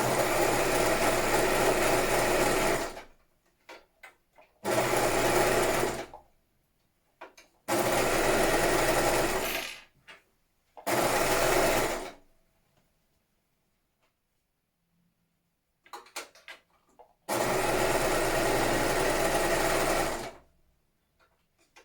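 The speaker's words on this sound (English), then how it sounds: "We're going to sew down this side and we're going to sew down this side." Sewing machine stitching the side seams of thermal batting slippers, running in several steady bursts of a few seconds each, separated by short pauses with small clicks and handling noises, loud and close with no talking.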